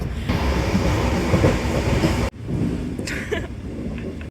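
Steady rumble and clatter of an Indian train riding on rails, heard from inside, with a sudden drop in loudness partway through.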